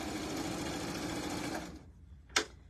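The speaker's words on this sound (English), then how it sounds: "we're still serging all the way up" A serger sewing machine stitching a sunflower quilt panel runs in a fast, steady whir for about two seconds, then stops, followed by one short sharp sound.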